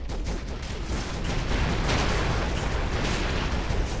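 Dense, continuous bursts of explosions and gunfire from exploding alien enemies in the video game Broforce crackle and boom, loud and chaotic, with no pauses.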